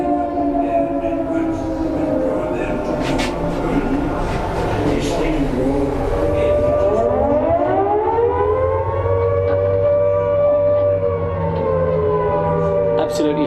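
An air raid siren at a tank museum, rising and falling in long wailing sweeps, loud and sustained, with voices of people in the background.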